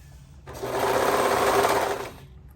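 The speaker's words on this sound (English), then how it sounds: "Make sure when you're serging, you have all 3 layers." A serger sewing machine stitches through three layers of fabric in a single smooth whirring burst of under two seconds, close and loud against a quiet room.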